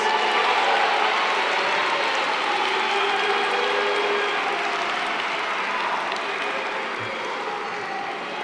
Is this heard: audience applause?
yes